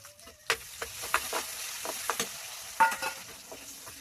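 Chopped onions fry in oil in a village-style kitchen, a quiet sizzle broken by sharp clicks and scrapes of stirring, with no voices.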